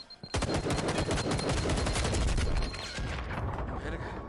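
Sustained automatic gunfire from a tactical shooter video game, dense rapid bursts of shots rattling loudly for several seconds before easing into lighter, more scattered firing.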